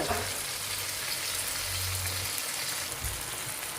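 Onions and mint frying in ghee for biryani-style tomato rice make a constant, fairly loud hiss and crackle close by, with no talking over it.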